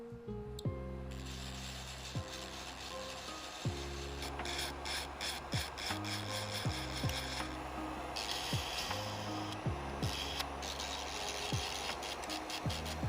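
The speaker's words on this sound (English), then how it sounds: "there were a lot of little gaps where the hair sort of flipped forward, so I sanded those down as well" Small 3D-printed dragon hair pieces being sanded by hand, with repeated close rasping strokes in short bursts and faint mechanical clicks, no talking.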